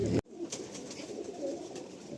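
Pakistani breed pigeons coo softly inside a crowded loft, a low murmuring bed of overlapping calls after a short burst of noise at the start, steady and close.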